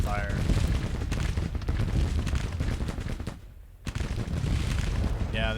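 Massed gunfire in a Civil War strategy game battle, a sustained rolling crackle of musket volleys and booms that drops out briefly before resuming at full loudness.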